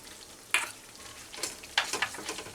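Pointed gourd with garam masala being sautéed in a pan over a medium gas flame: soft, quiet sizzling broken by a few sharp stirring scrapes and clinks, no talking.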